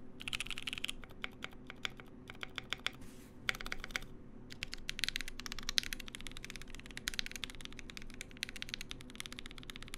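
Someone types on a Voice65% custom mechanical keyboard, producing dense, rapid clacks in quick bursts with short pauses. The sound is close and moderately quiet.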